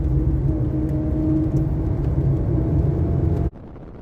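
Engine of an older project car driving on the road, a steady low rumble and whir building under acceleration, then cutting abruptly to a quieter drone near the end.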